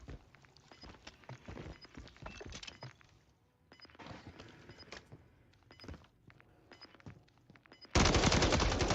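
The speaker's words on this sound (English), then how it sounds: "This looks like the PKM, doesn't it?" Bursts of PKM light machine gun fire in Call of Duty: Modern Warfare III, rapid rattling volleys separated by short pauses at moderate distance, ending with a sudden loud burst of noise.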